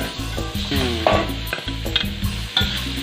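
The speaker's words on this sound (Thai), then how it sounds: "ผัดกับกระเทียมหมูก็เริ่มหอมแล้วนะครับ" Garlic, pork and mushrooms stir-frying in a wok, with steady close sizzling broken by repeated scraping and tossing strokes of the spatula at an even rhythm, no voices.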